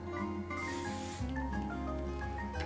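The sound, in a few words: basting spray being sprayed onto fabric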